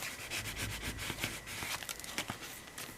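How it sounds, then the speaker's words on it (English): A craft scraper rubs and smooths paper into the middle of a journal page, soft close scratchy strokes in quick irregular bursts, faint and without speech. "let me get my craft scraper. So I can kind of push it into the middle"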